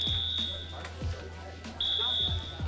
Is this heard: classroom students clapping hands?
no